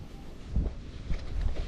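Gusty wind buffets the microphone outdoors beside a smoker cooker, heard as low rumbling surges that swell and ease over a couple of seconds with no talk.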